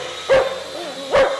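Two loud, close barks from stray dogs in a small adoption room in a Yucatán town, spaced nearly a second apart, with a quieter whine between them.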